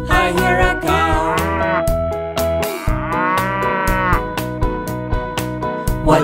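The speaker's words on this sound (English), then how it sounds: "I hear a cow." Cow mooing in a children's nursery rhyme song, repeated long lowing calls set among bright musical notes and rhythmic percussion, loud and close with no talking.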